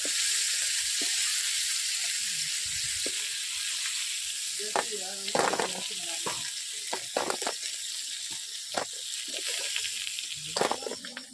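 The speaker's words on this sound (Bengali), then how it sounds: "কাঁকড়াগুলো ভেজে নিচ্ছি কীভাবে" Crab pieces with onion sizzle and crackle steadily in hot oil in a wok, with scraping stir sounds and occasional bursts of spattering; a voice speaks faintly underneath.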